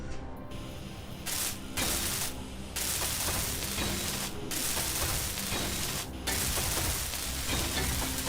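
Steel plates being welded on a ship in a video game, a harsh continuous sizzling crackle broken by several short pauses, close and fairly loud with no talk.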